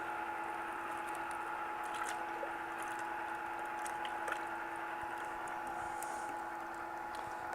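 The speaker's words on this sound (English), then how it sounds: "The ice cream maker is now running, and now we're going to pour this in here" An ice cream maker churns with a steady motor whir while a lemon mixture is poured in, adding continuous wet sloshing and squishing throughout.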